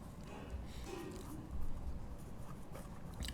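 Chalk or marker scratching across a board during a classroom geometry lesson on quadrilaterals, with a faint steady scraping under a noisy room hum and a brief louder stroke midway.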